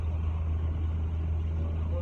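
A bus pulls in along a London street just after rain, its engine a low, steady rumble close by with a faint road hiss over it.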